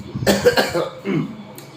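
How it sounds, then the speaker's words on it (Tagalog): A close, loud cough burst with a couple of harsh expulsions, followed by a softer throaty sound after a brief pause. "Ubo ko na lagi."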